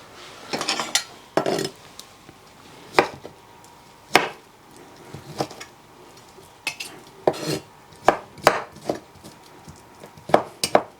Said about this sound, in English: now we're just chopping up or shredding the chicken